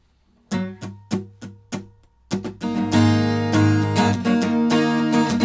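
An acoustic guitar plays the bridge and final chorus of a song, a few single plucked chords that ring out, then steady, full strumming that continues to the end.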